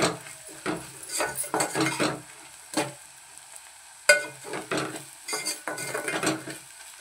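Ragi flakes upma ingredients, including turmeric and sago, fry in oil in a pan amid irregular stirring scrapes and utensil clinks, with a faint sizzle between bursts.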